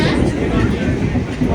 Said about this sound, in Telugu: షిరిడి ట్రైన్ ఎక్కేసి కూర్చున్నామండి.